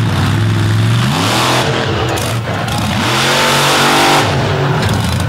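Monster truck engine roaring and revving hard through a slap wheelie at a Brooksville monster truck event, loud and continuous with rising and falling pitch sweeps.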